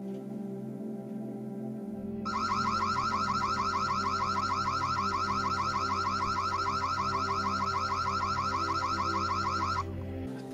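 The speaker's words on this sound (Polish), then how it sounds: "Tu możemy włączyć alarm dźwiękowy." The siren of an Annke Custos solar WiFi security camera wails loudly and steadily for about eight seconds in a rapid, warbling electronic pattern, then cuts off, over a low background hum with no speech.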